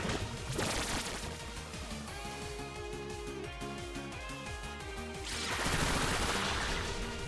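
Bullet Seed attack in Pokémon Scarlet and Violet, a rapid rhythmic pattering volley of repeated hits layered over game music, steady for several seconds before a swelling rush of noise near the end.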